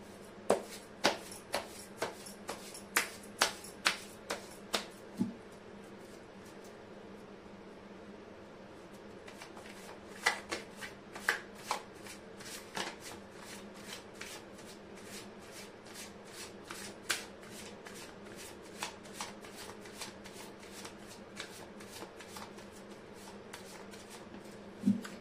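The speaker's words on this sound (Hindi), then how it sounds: "मैं कर लेती हूँ कार्ड की शफलिंग।" Tarot cards shuffled by hand in a long run of quick, crisp riffling flicks, fairly quiet and close, with a short lull near the middle.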